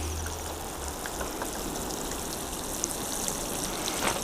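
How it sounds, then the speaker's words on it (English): Water poured over freshly sown seeds in a garden, a steady close hiss and spatter like heavy rain that continues without a break. Nobody speaks over it. "So all we need to do with them now is give them a good watering."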